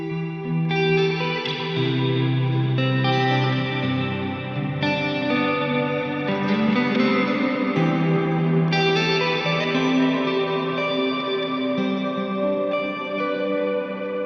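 An electric guitar is smothered in heavy delay and reverb, its notes blurring into a continuous ambient wash that swells and sustains steadily throughout, loud and with no voices.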